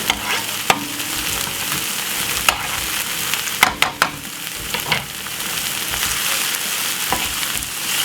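Garlic fries in a pan for shakshuka, a loud, close, continuous sizzle broken by sharp stirring clacks and scrapes at irregular moments, with no talk.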